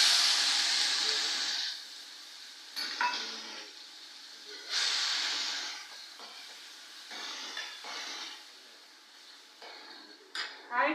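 Mustard seeds and cumin sizzle and hiss in hot oil in a home kitchen pan, with bursts of crackling spatter rising and falling while utensils clink against the pot and someone talks over it.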